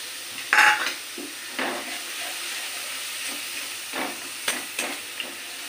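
Onion paste, garlic paste and crushed green chilli frying on low heat, a continuous sizzle broken by a sharp metallic clang and several scraping stirs with a spatula.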